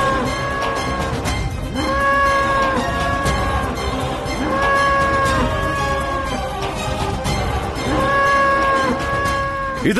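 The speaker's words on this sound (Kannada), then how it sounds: "ಅಯ್ಯೋ ಬಾಯಿ ಮುಚ್ಚೋ ಕೆಟ್ಟ ಕರು" A calf moos again and again in a Kannada mythological TV drama about Krishna. The loud, drawn-out harmonic bellows come in steady bursts every couple of seconds over a busy background, with no talking.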